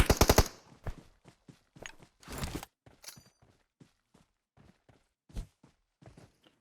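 Bursts of gunfire from the mobile battle-royale game PUBG Mobile: a rapid automatic volley at the start, then scattered single and double shots and footstep-like clicks over several seconds.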